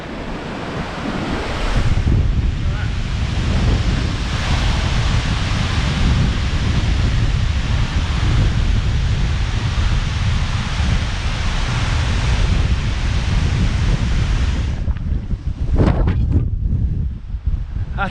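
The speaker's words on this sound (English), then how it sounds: "That is extremely windy, and of course the wind, it's a very, very cold wind as well." Strong, cold wind high on the slopes of Cadair Idris, roaring and buffeting against the microphone in loud, continuous gusts that ease briefly near the end.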